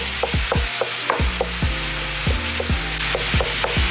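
Ground turkey sizzles steadily in a very hot pan while a utensil scrapes and breaks it up, making repeated sharp scraping strokes about every half second over the continuous frying hiss, close up.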